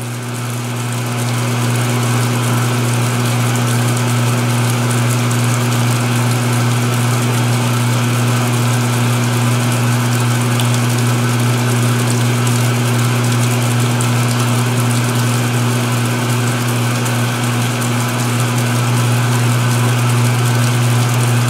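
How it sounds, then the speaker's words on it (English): A 2016 Speed Queen washing machine in its spray rinse, giving a loud, steady motor hum with a strong low drone and constant wash of spray noise for over twenty seconds, unbroken and close. "That was a good spray rinse."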